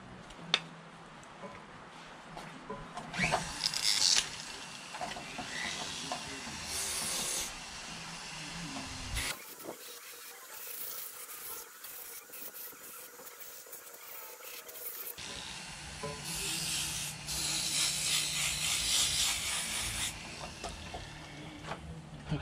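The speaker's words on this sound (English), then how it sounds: "let me hit it a little bit with the deburring tool," A deburring tool scrapes across a wooden carving of a white crappie fish, making close, hissy rasping strokes in several bursts with a short quiet gap partway through.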